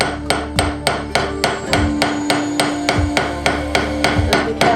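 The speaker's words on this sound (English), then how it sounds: "So now I'm going to hammer these, just because they're quite rough at the moment." A metal hammer strikes a rough jewellery piece held on a cast metal stake, about fifteen sharp, evenly spaced taps ringing out close and loud with no voices.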